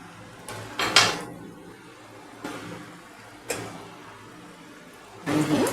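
A spoon stirs karvand murabba (spiced with cardamom) in a pan, making a few separate metallic scrapes and clinks about a second apart, close up, with quiet between them and no talking.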